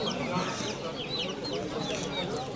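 Chickens and chicks cluck and cheep at the Sabunchu poultry market, a busy, steady chorus of calls under people talking nearby.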